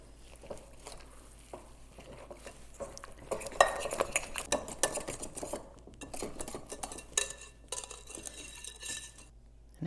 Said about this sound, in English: Break up the eggs and give that a whisk.